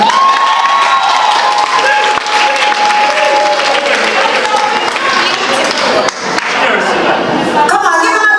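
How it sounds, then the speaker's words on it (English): Loud, sustained applause and cheering from wedding guests after a toast at a Jamaican wedding celebration, steady crowd clapping filling the whole stretch with voices mixed in. "give him a bigger round of applause"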